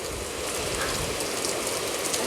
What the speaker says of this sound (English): The rain is here and the wind is here.